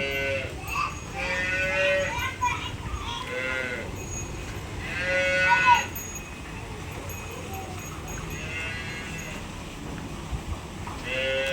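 A Jersey cross cow moos several times at a moderate distance, drawn-out calls spaced apart over a quiet outdoor background.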